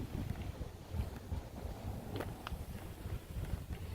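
Low, buffeting wind rumble batters the microphone throughout at a cold, windy outdoor car meet, a steady gusty roar with no voices.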